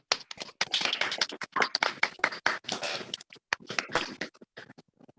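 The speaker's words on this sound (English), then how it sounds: "Can we just unmute our mics and give her a round of applause?" A few participants on an online call clap together, a sparse, uneven patter of separate claps over about five seconds, thin and compressed as if through call microphones, with gaps between bursts.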